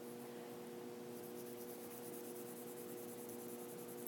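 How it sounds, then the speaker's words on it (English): Soft, steady rubbing of an eraser across a writing board, faint and continuous over a low background hum, with no talking. "let's erase what we have here."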